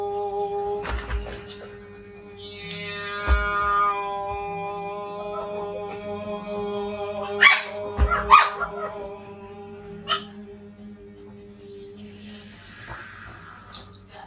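A dog barks in a few scattered bursts, mostly near the middle, over a steady tonal background with no talking.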